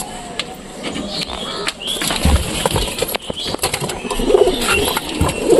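Pigeons, both males and females, settled inside a loft, giving scattered coos among rustling, shuffling, and brief wing flaps, set against a steady noisy background with no talk.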